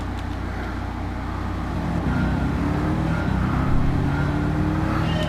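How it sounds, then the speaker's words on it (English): A car engine in a video game drones steadily and rises in pitch as it revs, a continuous close motor sound with no voices. "I don't know if you guys can hear me talk over the car."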